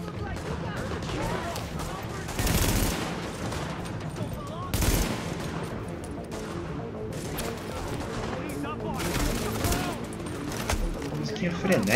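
Gunfire in The Division video game during a base recapture: dense bursts of automatic rifle fire and scattered shots with a couple of heavier booms, continuous and busy over noisy combat ambience, with someone speaking over the action.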